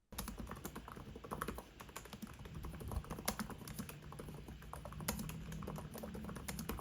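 Rapid, continuous clicking of a Samsung Galaxy Book Ultra laptop keyboard with short key travel, soft and close, with an uneven typing rhythm and no voices.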